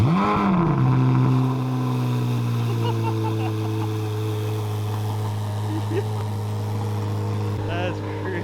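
A car engine revs hard and then holds a steady, droning high pitch with a rising whine on top, loud and close, with a faint voice now and then beneath it.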